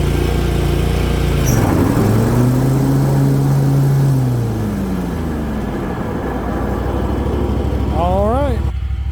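Kubota Z411 48-inch zero-turn mower driving with its blade engaged, a loud, steady engine drone with shifting pitch throughout, joined near the end by a rising mechanical whine, with some talk over it.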